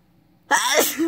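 A single sharp human sneeze bursts out suddenly after near silence, loud and close, with a quick intake and forceful release trailing into a short vocal tail.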